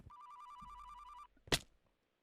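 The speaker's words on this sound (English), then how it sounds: "I heard the phone and the music and I'm like, oh no, who's calling me at this hour?" Telephone-style bell ringtone trilling in a steady repeating pattern, part of Wilbur's music in a video game, loud and alone for about a second, followed by a short sharp burst of noise.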